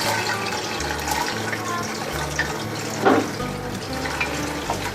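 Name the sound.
sliced onions frying in oil for nihari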